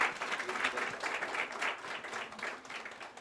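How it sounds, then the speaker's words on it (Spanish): An audience applauds speakers at a live training session on document management, a steady mid-level wash of clapping filling the whole stretch without pause. "Un aplauso para cada uno de los ponentes."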